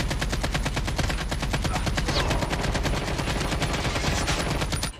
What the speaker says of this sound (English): I was only shooting that guy's ankles right there